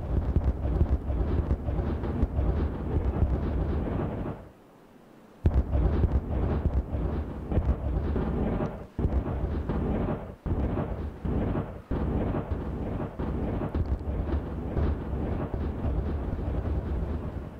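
A blast goes off in the colony-building game Timberborn, a heavy booming roar that cuts out briefly, then erupts suddenly and rumbles loudly with repeated thuds through the rest.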